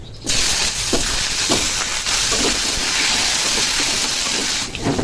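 Potato pieces dropped into hot oil with dried red chillies, whole cumin and nigella seeds sizzle loudly and steadily, a dense crackling hiss filling the whole stretch with a few sharper spits.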